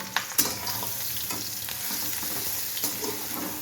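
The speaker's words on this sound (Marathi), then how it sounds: "तेलामध्ये आपली ही जी मसाला लावलेली भेंडी आहे ना ती परतून घेऊया." Masala-coated okra (bhindi) stir-fried in a spoonful of oil, with a steady close sizzle broken by scraping stirs and a few sharp spatula knocks.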